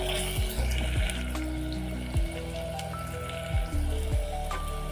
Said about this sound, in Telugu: ఆనియన్ పేస్ట్ బాగా ఫ్రై అయిందండి. ఆయిల్ అనేది బయటకు వచ్చేసింది.